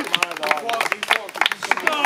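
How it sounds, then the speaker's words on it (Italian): Audience clapping at an outdoor festival reenactment performance in a park in Bivongi, lively uneven applause with crowd voices and chatter mixed throughout. "Applauso!"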